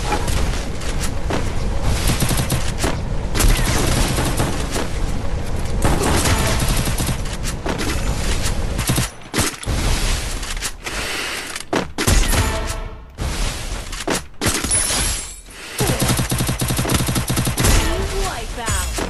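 Sniper shots and bursts of gunfire in the Free Fire battle royale game, dense and loud with rapid crackling volleys and booms, briefly cut by short gaps, voices faintly mixed in.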